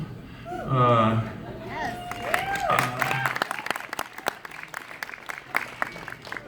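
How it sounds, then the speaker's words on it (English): Scattered audience clapping follows a moment of talk and laughter, thinning into sparse, distinct claps that patter on at a moderate distance. "I don't know if it was worth applause"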